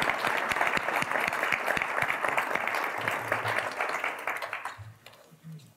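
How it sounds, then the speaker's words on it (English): Sustained audience applause for a guest, dense and fairly close, with voices faintly mixed in, tapering off over the last second into a few scattered claps. "Let's give him a round of applause."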